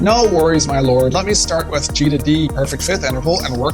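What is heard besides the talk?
No everyday noise stands out behind the speech.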